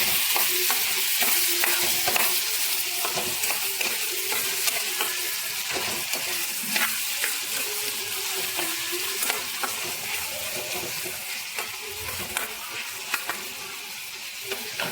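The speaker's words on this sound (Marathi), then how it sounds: "थोडं लो फ्लेमवर ठेवू द्या, म्हणजे कांदा पण आणि टोमॅटो मस्त होईल" Onion and tomato frying on low flame in a pan with curry leaves, a steady close sizzle with occasional stirring scrapes throughout, no voices.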